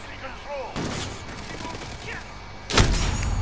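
Call of Duty Modern Warfare multiplayer match with a sharp sniper rifle shot cracking loudly near the end, over a steady bed of game ambience and scattered distant shots.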